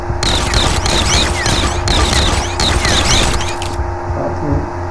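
Pistol gunfire in a video game still in development, a dense run of quick shots with clicks and booming impacts filling the whole stretch, close and loud, with a sharper high chirping layered over the first part.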